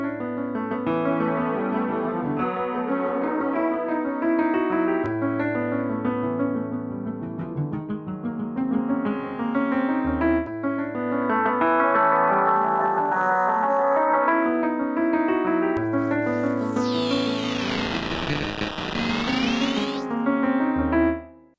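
Piano phrases run through Virtual Pianist's finisher multi-effect presets, heavily processed with distortion and echo, shifting in tone between passages, with a sweeping, warbling effect near the end; loud and continuous, no voices.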